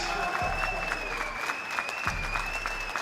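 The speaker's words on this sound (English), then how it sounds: "do keep that round of applause going" Boxing arena crowd applauding after a TKO win at a heavyweight bout, a steady patter of clapping with a ringing tone above it and an announcer talking over it.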